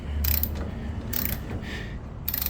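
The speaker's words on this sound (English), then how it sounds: "here we got our handy 13mm socket on our breaker bar" A breaker bar with a 13mm socket loosening bolts on an Aston Martin DB11 V12, heard as a few short ratchet-like clicking bursts over a steady low rumble, close and moderately loud.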